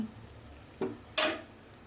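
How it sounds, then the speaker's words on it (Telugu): Amaranth leaves (thotakura) drop into a hot pan with a short burst of sizzle and a brief scrape of stirring, close and fairly quiet, with no one talking. "ఓకే, తోటకూర తీసుకున్నాను, తోటకూర వేసేస్తున్నాను అనమాట"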